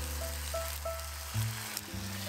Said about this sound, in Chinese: 煎第二面